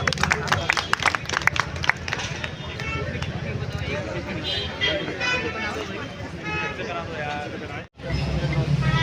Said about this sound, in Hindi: मैं आप सभी से रिक्वेस्ट करूंगी कि जोरदार तालियां हो जाए एक बार।